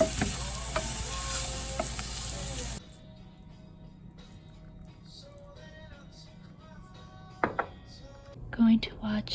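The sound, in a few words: stir-frying vegetables and tofu for dinner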